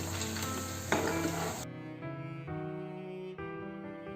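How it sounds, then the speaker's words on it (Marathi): Paneer fries crisp in a pan over a medium gas flame for dhaba-style matar paneer, a close steady sizzle with some stirring scrapes, loud at first and then settling into softer crackling. "मीडियम गॅस फ्लेमवर आपल्याला हे छान क्रिस्पी करून घ्यायचं आहे"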